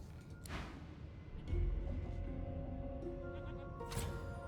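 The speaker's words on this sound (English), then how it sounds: "Off to the herd, little sheep." Sheep bleating in a video game: drawn-out, wavering bleats rise over a steady low background of ambient game music and rumble, with a louder low thump partway through and another bleat near the end.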